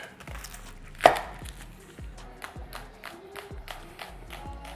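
A knife rough-chops halved shallots on a cutting board in quick, regular close thuds about twice a second, with one sharper, louder strike early on.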